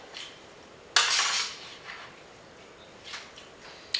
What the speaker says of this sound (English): So we're going to transfer it all through a colander and into a bowl.